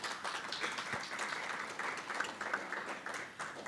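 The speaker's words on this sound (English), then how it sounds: "all members should give your organization a round of applause." Applause from members at a business gathering: a fairly quiet, steady wash of many hands clapping that continues evenly without voices on top.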